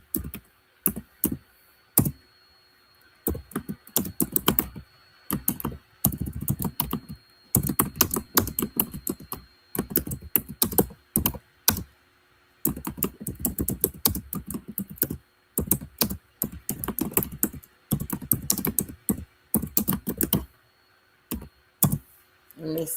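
A computer keyboard is typed on in long, fast bursts of close, crisp key clacks separated by brief pauses, continuous and prominent throughout with no voices.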